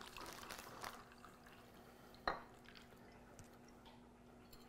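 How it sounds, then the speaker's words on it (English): Caffeinated and decaf coffee are poured into one container: a faint, brief liquid pour, then a sharp clink near the middle and a few soft drips in a quiet room. "we're going to take both of these coffees and we're going to pour equal amount in here"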